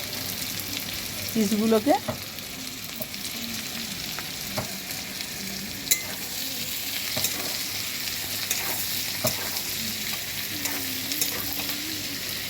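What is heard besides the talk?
chopped onions frying in a pan for chilli chicken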